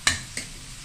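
Pork liempo being stirred and browned in a pan for estofado: two quick scraping stirs of a spatula over a faint, steady sizzle, close and fairly soft.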